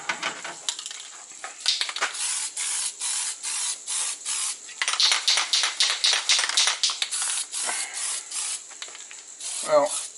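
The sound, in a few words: spraying spray putty onto a plasma rifle prop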